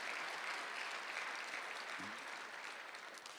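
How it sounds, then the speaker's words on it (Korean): Congregation at a Sunday afternoon church service applauds, dense sustained clapping filling the room at a steady level, with a short low voice sounding briefly partway through. "박수 치려면 세게 치세요."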